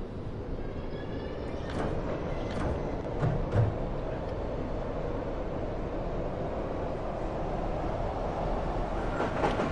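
A tram running in the video game Tram Simulator Urban Transit, a steady low rumbling rolling drone with faint rail clicks and a few higher squeaks, continuous and close throughout.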